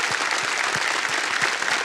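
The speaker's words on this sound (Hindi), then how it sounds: "एक बार फिर तालियों के साथ उनका हम अभिनंदन करते हैं।" Studio audience applause on a televised quiz show set, a steady dense wash of many hands clapping at even loudness, close and full, with no talk over it.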